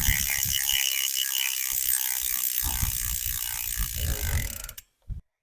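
Hope bicycle hub freewheel ratchet buzzing in a fast, continuous stream of clicks while the wheel spins, loud and close, then stopping abruptly with a short final tick.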